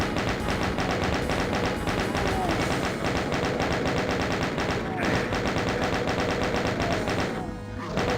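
Chaingunner enemies firing in the video game Doom: dense, continuous rapid-fire gun bursts with thudding impacts fill the whole stretch, loud and relentless, with a brief sweeping sound effect near the end.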